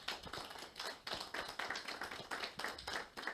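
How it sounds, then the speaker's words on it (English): Audience at a community lecture event giving a round of applause, with individual claps clearly audible in an uneven rhythm, close and fairly sparse, suggesting a small crowd. "Please, y'all give a round of applause"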